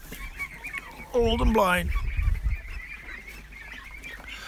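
Ducks honk loudly in a barn, a burst of repeated calls standing out near the start, then softer bird noise continuing under a man's brief speech.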